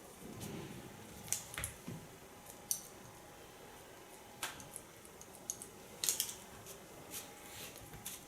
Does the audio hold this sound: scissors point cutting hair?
yes